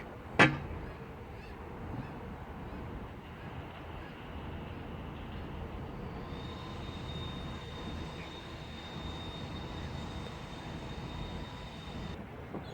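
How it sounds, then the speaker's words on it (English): A CrossCountry passenger train arrives at Stockport station on the West Coast Main Line Manchester branch, its steady rumble running throughout, with a sharp horn-like blast near the start and a sustained high whine in the second half. "arriving now is going to be the 1435 cross-country service to Bournemouth"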